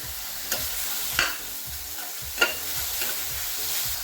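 Grated bottle gourd roasting in a pan for dudhi halwa, a soft steady sizzle broken by a few scraping stirs of the spoon, close and alone.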